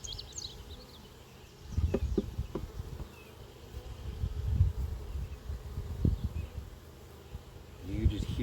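Honey bees humming at a newly added garden hive, a constant close buzz with intermittent louder passes of individual insects near the microphone.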